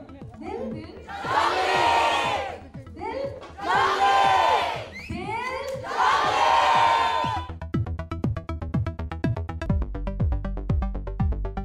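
A crowd at a National College stage event chants a call-and-response for Dil Junglee, three loud surging group shouts in a row, then the roar gives way to a quieter, clattering stretch of noise.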